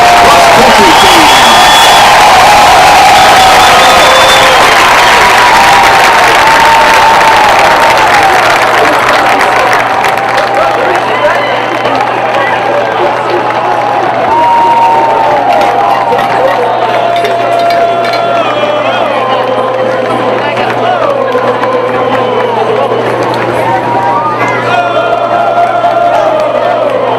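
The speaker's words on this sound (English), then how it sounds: "please join me in giving a big round of applause to our national champion, women's cross-country team" A stadium crowd at a college football game applauds and cheers for the national champion women's cross-country team, loud sustained clapping with whoops that fades slowly over about half a minute, an announcer's voice heard near the start.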